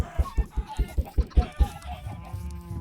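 Chickens clucking in Minecraft Bedrock Edition, a run of about eight regular, punchy clucks close up in a crowded mob area, then softer low clucking trailing off.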